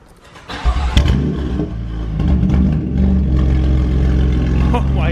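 A BMW F82 M4 with an Armytrix Valvetronic exhaust fires up with a loud, sharp start at about half a second, then settles into a deep, rumbling idle. There are a few throttle blips, and voices can be heard over the engine.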